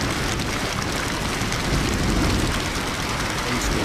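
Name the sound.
rain storm summoned by Tempest ghost in Ghost Master video game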